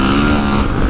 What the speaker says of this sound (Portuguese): motor gritando, ó. Estão acelerando tudo